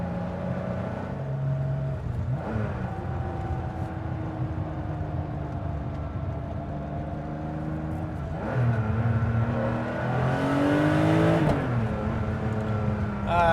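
A modified 1985 Porsche 930 Turbo with a 3.4 liter engine accelerates hard, its engine note climbing through gear pulls with a shift near the middle and a loud, rising boost surge toward the end, heard from inside the cabin.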